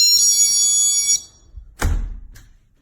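A GE personal security window and door alarm plays its chime, a bright ringing electronic tone for about a second, followed by a few close thunks and knocks from handling the device.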